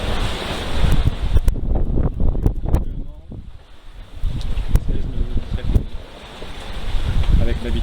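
Steady wind and sea on a sailboat during a return ocean crossing in about 15 knots, a continuous broadband rush of air and water with swelling gusts and wave surges, close and fairly loud throughout.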